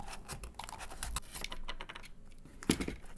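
Scissors cut a paper Nisse hat for a kids' penguin winter hat craft: soft close snips and paper rustles come in quick irregular bursts, with a sharper scrape near the end and no talk.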